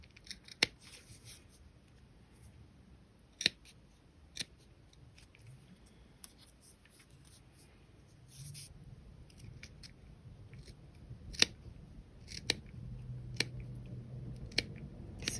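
Scattered sharp snips from scissors cutting through leather, irregular and close, with soft handling noise between cuts.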